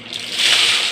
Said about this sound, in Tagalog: Lagay na natin yung suso para maluto na.